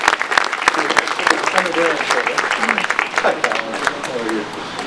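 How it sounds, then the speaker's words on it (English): Applause from a crowd at a garden re-dedication reception fills the room, steady clapping with scattered whoops and voices mixed in throughout. "Let's give them a little round of applause."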